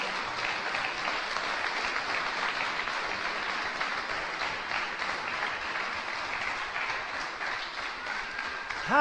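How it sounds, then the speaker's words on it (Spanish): A church congregation breaks into loud, sustained applause, a dense even wash of many hands clapping for the full stretch, building slightly at the end. "¿Le das un aplauso a la palabra de Dios?"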